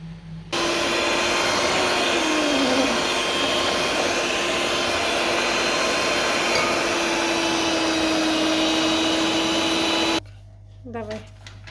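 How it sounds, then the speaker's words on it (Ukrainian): An electric mixer whips batter in a home kitchen, giving a loud, continuous whirring whine that runs for about ten seconds and then cuts off, followed by a brief voice. "збиваємо міксером"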